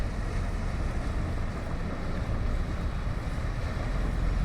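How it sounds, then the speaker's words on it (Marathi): A small boat heads in fast across open water off a New Zealand beach, heard as a steady, moderately loud rumble of engine and hull mixed with wind buffeting and wave wash, with no voices. "बोट अगदी वेगाने येते आपल्याकडे छोटी बोट"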